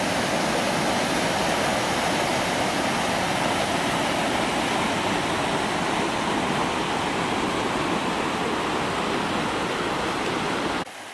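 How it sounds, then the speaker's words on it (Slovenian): Waterfall at the last cascade of a mountain stream on a hike near Klek and Kamačnik, a steady, loud broadband roar of falling water, close and unbroken throughout with no voices. "To je taj prekrasni zadnji slap do kojega smo došli."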